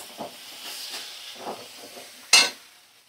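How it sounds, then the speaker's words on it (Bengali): A spice paste of ground poppy seed and mustard frying in a pan for a fish dish gives a quiet, steady sizzle and hiss. Soft stirring scrapes are followed by one sharper hissing burst near the end. "এবার সমস্ত মশলা আমি ভালো করে 2 মিনিট একটু কষিয়ে নেব।"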